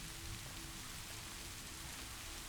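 Steady rain falls around a cabin at night, a dense, even hiss with no pauses or distinct drops standing out and no voices.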